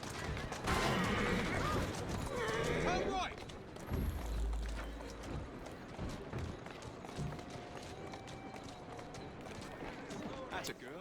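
Horse hooves clip-clopping at a run in the video game Assassin's Creed Syndicate, mixed with game mechanisms and bursts of gunfire, while a player talks over the action.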